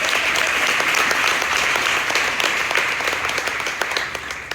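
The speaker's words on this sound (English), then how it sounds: "Clap for him so we'll be encouraged." An audience claps for a speaker about to share his story at a hope-themed event, a dense, steady burst of many hands that holds loud throughout and eases slightly toward the end, with no talking over it.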